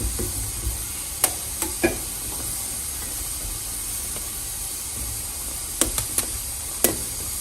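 Chiles roasting over a stove flame in a pan give a steady soft sizzling hiss, broken by a few sharp pops and crackles, close and fairly quiet, with no one talking.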